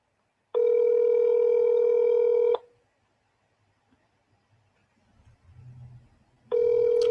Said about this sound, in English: You hearing the phone ring, right?